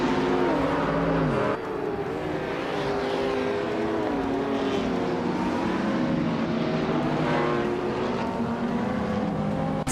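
Racing video game cars, including a 2020 Aston Martin Victor, roaring past in a dense, continuous engine drone with shifting revving pitch, loud and close throughout.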